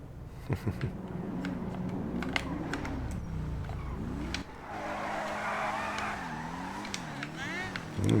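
An Ubermacht Revolter car drives in a GTA video game, its engine droning continuously with shifting revs and a burst of tire noise midway, while a voice talks over it and keys click.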